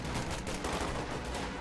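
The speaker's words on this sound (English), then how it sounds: "WC-51 engaging against the machine gun at point-blank range" Machine gun fire in a competitive video game match, where a WC-51 vehicle engages a machine gun at point-blank range: a continuous, fairly quiet wash of rapid shots with a rumbling undertone.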